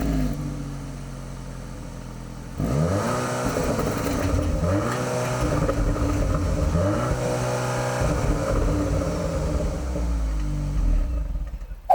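A 2023 Audi S3 with a quad exhaust idles, then revs loudly several times. The engine note rises and falls in repeated swells, close and strong, with no talking.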